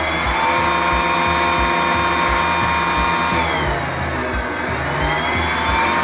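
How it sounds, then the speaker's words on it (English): A Milwaukee chainsaw runs loud and continuous, its motor whine surging up and down in speed and dropping in pitch midway, with no talk over it. "the speed on it goes up and down, and then it just cuts out for no reason"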